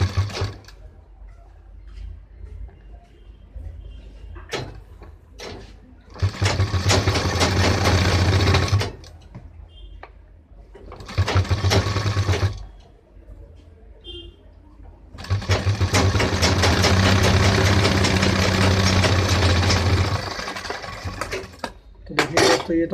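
Sewing machine stitching the seam of a pant back pocket, running in three long bursts of steady whirring with short pauses and light handling clatter between.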